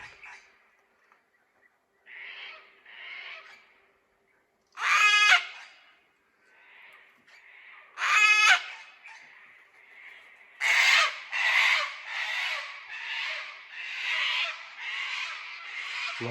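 Harsh, grating bird calls like a rusty hinge ring out in separate bursts: two short rasping squawks early, then a louder run of repeated creaky calls toward the end, with quiet gaps between.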